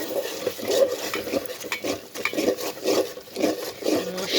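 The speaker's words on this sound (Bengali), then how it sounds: "মশলা কষানো মশলা কষাচ্ছি আমি কালারফুল মশলা" Spice paste being stirred and fried in a pan for a hilsa fish curry: a steady, rhythmic run of close spatula scrapes and soft sizzling, fairly loud and without talk.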